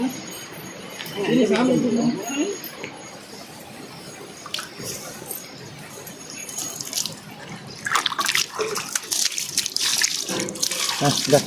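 Water splashes and pours for washing feet at an old temple, a continuous running and splashing sound of varying strength with voices talking over it.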